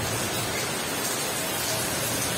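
Heavy rain pours down in a steady, dense hiss that fills the whole stretch without a break, close and even, with no voices.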